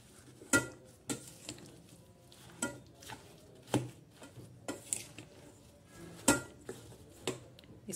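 A spoon stirs jackfruit pickle in a pot, producing quiet, irregular clinks and scrapes against the metal that come every half second or so, with nobody speaking.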